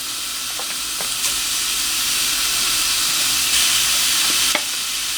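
Food browns in a hot pan for chilli con carne, giving a constant close, loud sizzle with a few faint clicks of stirring and no talking.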